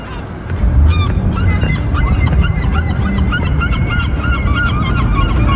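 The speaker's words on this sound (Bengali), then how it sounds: "আমি ভাবলাম পাখির একটু সাউন্ড রেকর্ড করি" Geese in a park honk loudly and repeatedly near by, many calls overlapping in a busy flock chorus over a low rumble of outdoor background noise, with no talking.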